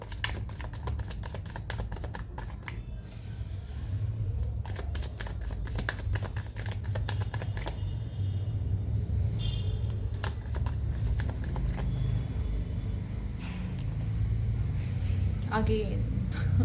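Tarot cards being shuffled by hand in a repeated crisp riffle and flutter that runs steadily throughout, close and fairly loud, with a low hum underneath and a voice speaking over parts of it.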